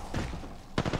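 Video game gunfire: a burst of rapid shots near the end, preceded by a quieter stretch of distant shooting and murmur, short and moderately loud.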